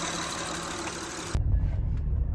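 A car engine idles steadily with an even, rumbling hum, and the tone shifts abruptly partway through to a deeper, lower rumble.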